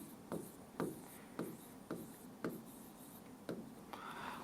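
Chalk or a marker scratches out a sentence on a classroom board in a regular series of short, distinct strokes, about seven in quick rhythm, close and faint with no talking.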